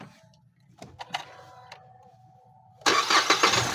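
A Ford EcoSport fitted with a replacement starter motor cranks and fires up, brief clicks and a whine giving way to the engine catching and settling into a loud, close idle.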